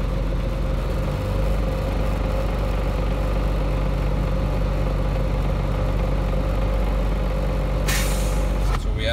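Truck engine idling and revving steadily near 1000 rpm, then the air brake system's air dryer purges with a sudden loud hiss of released air near the end, close by.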